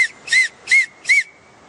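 An oak acorn cap held between the hands gives four short, shrill, piping whistle blasts in an even rhythm, close and clear against near silence.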